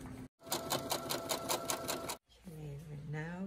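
A sewing machine stitches a massage chair cover during reupholstery, a rapid even burst of stitching for about two seconds, followed by a person talking.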